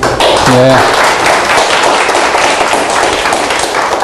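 An audience at an academic statistics lecture gives a guest speaker warm applause, a loud, dense patter of many hands throughout, with a brief voice near the start.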